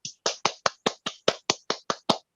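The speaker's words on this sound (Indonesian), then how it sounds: "Tepuk tangannya kedengaran." About eleven crisp, evenly spaced hand claps ring out close and alone, each a sharp isolated slap with brief silence between.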